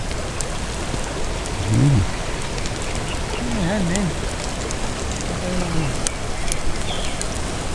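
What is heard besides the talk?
rain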